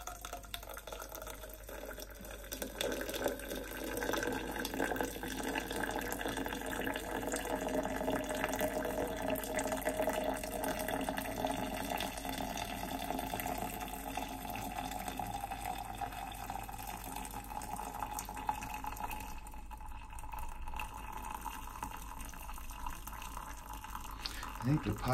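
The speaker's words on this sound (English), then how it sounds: "And so now we just pour it in slowly." Turkish coffee pours slowly from a pot in a Sarajevo morning kitchen, a steady, thin liquid trickle that runs continuously at close range, with occasional faint drips.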